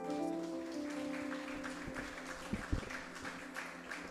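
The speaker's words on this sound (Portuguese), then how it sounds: "Aplauda o Senhor mais uma vez" A church congregation claps during an evangelical service, the applause faint and distant under a sustained organ or keyboard tone, with a couple of sharper thumps near the end.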